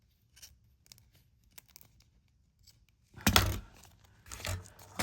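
Scissors cutting the bottom of a card sleeve: a few faint snips at first, then louder crisp cutting and tearing bursts near the end.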